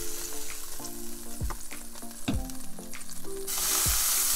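A smash burger patty sizzles loudly on a hot stove-top pan just after being flipped, with a continuous close frying hiss broken by a few sharp scrapes and clanks of a spatula, and a surge of sizzle near the end.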